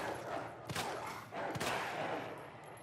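Two sharp gunshots ring out in the video game Resident Evil 2 Remake, spaced about a second apart over a low, hazy game background, fairly quiet.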